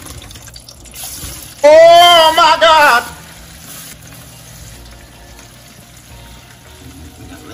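Potatoes for O'Brien-style frying hiss sharply as they hit hot grease, a loud burst of sizzling that lasts about a second and a half then settles into a faint simmer, with a voice exclaiming over it.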